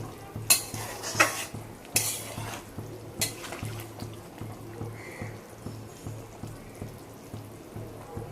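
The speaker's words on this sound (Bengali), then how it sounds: "এটা ভালো করে কষে নেবো।" Curry is stirred and sautéed in a pan with salt added, a spoon scraping in a steady rhythm of soft strokes over a light sizzle, close by, with no speech.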